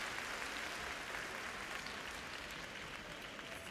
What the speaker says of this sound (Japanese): 大きな拍手です。